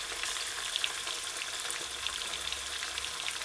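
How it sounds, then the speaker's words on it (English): Continuous crackling sizzle of fish frying in hot oil, steady and close, with small pops scattered throughout. "You gotta allow the fish to fry before you'll be able to turn it."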